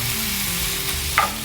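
Thin strips of steak meat being stirred and browned in a hot pan, with a steady low sizzle running throughout and a single brief scrape of the spatula near the end.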